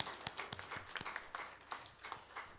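A church congregation claps during a Sunday service, a quiet scattered round of hand claps in an uneven rhythm, heard from a distance in a reverberant hall.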